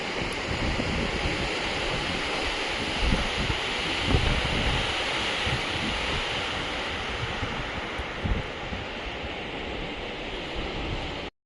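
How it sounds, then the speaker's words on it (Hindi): The Baspa river roars in full spate at Chitkul, a Himalayan village near the Indo-Tibetan border, and gusty wind buffets the microphone. A dense, steady rush of water continues without pause for the whole stretch, with no voices. "बसपा नदी अपने पूरे उफान पे है अभी।"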